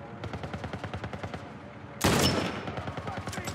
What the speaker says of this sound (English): Where are they firing from?